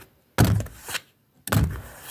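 Playing cards dropped down onto a surface make two sharp, close thunks, each followed by a brief flutter and settling rustle, with a short pause between them.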